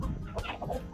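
Short, throaty clucks from a rooster, close by, a few quick notes with no talking.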